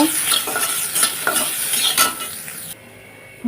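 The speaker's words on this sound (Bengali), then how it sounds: "আমি রসুনটাকে কাঠখোলায় ভেজে নিচ্ছি" Garlic frying in a wok while being stirred: loud rhythmic scraping strokes over a constant sizzle, close up, stopping abruptly near the end.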